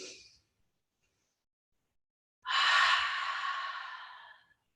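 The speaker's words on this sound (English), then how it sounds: "as we exhale, we're going to breathe out like a dragon blowing smoke, like we're fogging up a mirror" A deep yoga exhale pushed out through an open mouth, a long breathy rush that swells quickly then tapers over about two seconds, heard close and alone after a short faint breath.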